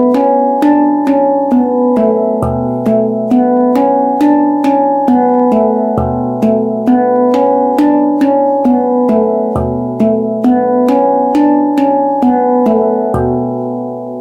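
A handpan plays a slow, meditative repeating pattern, each struck note ringing with shimmering sustained overtones in an even, steady rhythm, close and clear with no voice.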